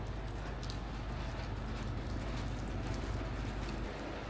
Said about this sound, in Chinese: 剛飛上去沒多久，又下雨了